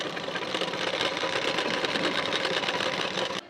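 A sewing machine stitching a hook strip onto a blouse runs in one fast, steady whirring burst close by, then stops abruptly.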